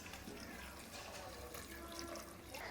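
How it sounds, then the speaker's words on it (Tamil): Water pours steadily into a pot for boiling potatoes, a continuous splashing rush, close and moderately loud. "இப்போ உருளைக்கிழங்கு வேக வைக்க தேவையான அளவு தண்ணி ஊற்றிக்கலாம்."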